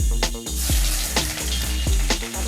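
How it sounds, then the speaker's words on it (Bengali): Whole cumin, dried red chilli and bay leaf crackle in hot oil for a Bengali chholar dal tempering, a steady close sizzle with sharp pops and spatters recurring throughout. "ছোলার ডালটা আমি এবারে ফোড়ন দিচ্ছি। গোটা জিরে দিলাম, শুকনো লঙ্কা দিলাম আর তেজপাতা দিয়ে দিলাম।"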